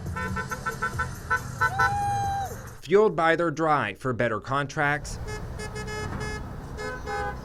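Car horns honk repeatedly from passing vehicles in support of striking UAW Local 2164 union workers on strike against General Motors, steady tones under and between a reporter's narration.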